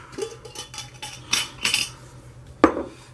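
Small glass jars clink and knock together as one is picked out, several short bright taps with brief gaps between them, close and clear.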